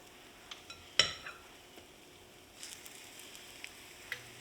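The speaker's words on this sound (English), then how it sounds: "I have a skillet here preheated with some oil" Corn fritter batter dropped by spoonfuls into hot oil in a preheated skillet gives soft sizzling and spitting, quiet overall, with several sharp spoon clinks against the pan and one louder clank.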